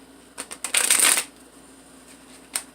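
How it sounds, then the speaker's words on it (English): Tarot cards being shuffled by hand, a quick run of crisp riffling bursts that swell into one dense, loud flurry, then a short pause and a final single snap, close up with no voices. "Kind of a funky shuffle."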